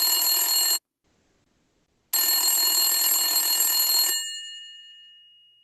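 A telephone rings unanswered: a loud electronic ring, a pause of silence, then a second longer ring that cuts off and decays away, with no voices.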